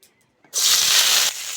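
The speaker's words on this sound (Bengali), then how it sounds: "এবার ওই কড়ার মধ্যে তেল দিয়ে বেগুনটা ভেজে নেব" A sudden loud sizzle bursts up as eggplant hits hot oil in a wok, a sharp steady hiss lasting about a second before easing slightly, following near silence.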